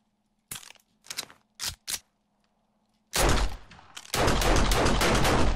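Automatic gunfire from a weapon in 7 Days to Die during a horde night: a few short separate bursts, then after a pause, long loud sustained rapid fire close up, with no talking.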